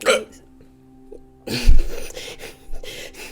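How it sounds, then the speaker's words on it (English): A single sharp hiccup sounds close up, followed by breathy noises and a few short vocal sounds. "Aggressive hiccup."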